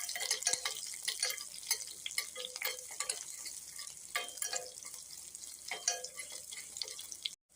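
Dried red chillies and crushed garlic frying in a tempering (popu), a faint crackling sizzle with irregular pops and stirring scrapes, quiet and steady, with no voices.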